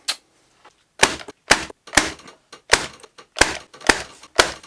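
A staple gun driving staples through plastic foil lining into a wooden planter, about nine sharp, loud, close clacks in an irregular rhythm with short pauses between them, no voices.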